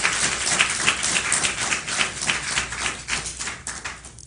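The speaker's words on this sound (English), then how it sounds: "Please give them another round of applause." Audience at a high school speech competition applauds, a dense, loud, continuous wash of many hands clapping close by, with scattered sharper claps standing out throughout.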